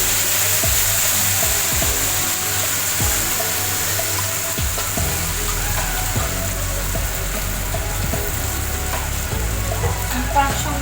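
Spice paste for malai kofta curry frying in hot oil: a loud, continuous sizzle with scattered knocks and scrapes of stirring, close up and alone.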